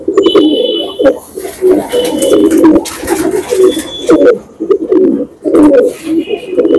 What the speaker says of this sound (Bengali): দেখুন পায়রা দুটো, পায়রার গঠন চাল চলন সবই ঠিক আছে।